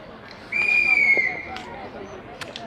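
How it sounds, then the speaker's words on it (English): A single sustained referee-style whistle blast at the 2019 British Open bridge tournament, signalling the start of the silver and bronze knockout finals, rings out briefly and clearly over a low hall murmur. "that whistle, if you heard it, is to signal the start of the finals of the silver and bronze knockouts"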